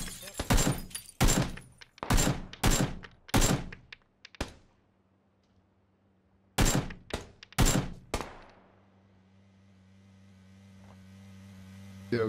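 Gunfire in PUBG: two bursts of sharp, loud shots in quick succession, separated by a pause, then a low engine-like hum building toward the end.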